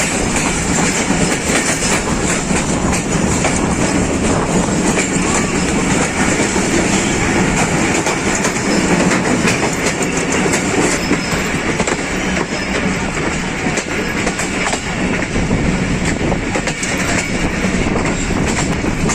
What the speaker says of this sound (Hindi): अवाम एक्सप्रेस पेशावर सिटी पहुंच रही है।